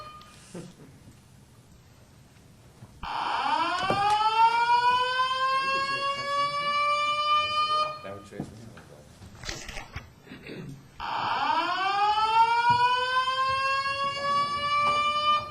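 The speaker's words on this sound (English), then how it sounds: "Please see the strobe lights and hear the sirens." A loud fire alarm siren sounds during a building alarm system test, rising and wailing in two long sweeping cycles, with a brief spoken remark in the gap between them.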